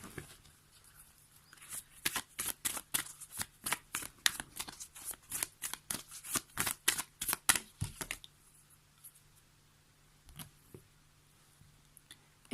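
Oracle cards being shuffled by hand during a tarot-style reading, a quick run of close crisp riffling snaps for several seconds, then a few scattered soft card taps in near silence.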